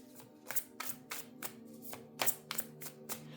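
Tarot cards being shuffled in a series of crisp riffling bursts, roughly one every third of a second, close and fairly quiet with a low steady hum beneath.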